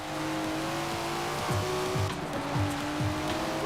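A Datsun in Forza Horizon 4 revs hard and steadily, its engine note climbing and shifting through quick repeated gear changes, loud and close, with slight tire noise and no voices.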